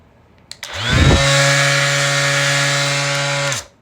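A power tool on its low setting whirs up to a loud, steady high-pitched drone, holds for a few seconds, then winds down.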